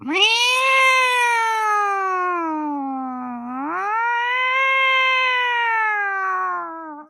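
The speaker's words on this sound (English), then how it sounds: "It's an old-fashioned police car sound, but it sounds like a cat." A long, drawn-out meow rises and falls in pitch like a wailing siren, loud and close, with a brief dip in the middle.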